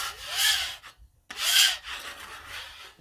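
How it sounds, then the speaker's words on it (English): A metal scraper drags across a Blackstone flat-top griddle, clearing off cooked plant-based egg in two loud raspy strokes with a short pause between, then a steadier, softer scrape continues. "let's scrape this off"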